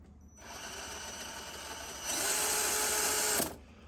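RC rock crawler's electric motor running with a properly fitted pinion gear, a steady high whine that rises in pitch partway through, then cuts off and briefly restarts, close and alone.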